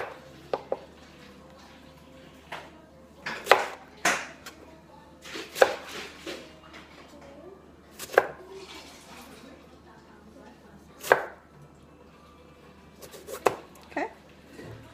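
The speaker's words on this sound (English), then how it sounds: "So you're gonna take your Roma tomato, gonna cut it here." A knife cuts Roma tomatoes into slices on a cutting board for shrimp ceviche, a run of sharp, irregular chops close up with pauses between them, while a person talks over the cutting.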